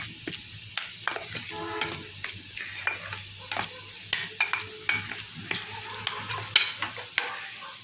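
Mashed beans are mixed with chilli in a pan, giving a quiet sizzle broken by a steady series of sharp scrapes and taps of a utensil against the pan, close by.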